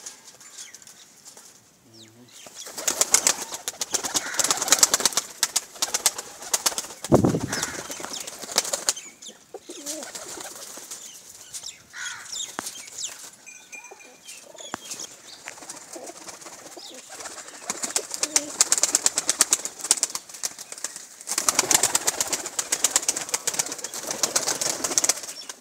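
Pigeons coo softly and flap their wings in a loft, with bursts of wingbeats and shuffling between low calls; some background noise and faint voices mix in.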